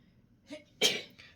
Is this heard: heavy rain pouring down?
no